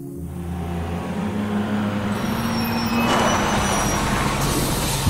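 A bus in a video game, a steady low engine rumble that swells into a louder hissing roar partway through, continuous and close.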